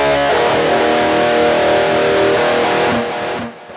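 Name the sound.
distorted guitar chords, BOSS eBand JS-10 Extreme Lead amp, EQ on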